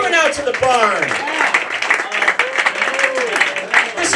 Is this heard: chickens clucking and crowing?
no